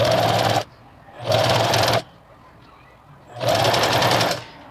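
A sewing machine stitches a fabric cosmetic bag in three fast, steady bursts with short quiet pauses between them, close and clear, with no talk over it.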